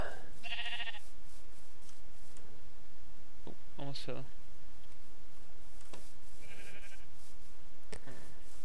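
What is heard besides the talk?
sheep bleating in a video game cave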